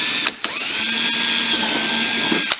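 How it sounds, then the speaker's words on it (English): A power drill with a 1/4 inch bit whines steadily as it bores through a plastic upper door on a Kawasaki KRX 1000, with a couple of sharp clicks at start and end, close and loud. "we are going to drill our holes with our 1/4" drill bit"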